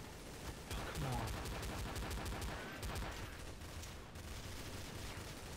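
Rapid gunfire in Counter-Strike: Source, sustained bursts of shots throughout with brief pauses, loud and dense, with faint talk in the background.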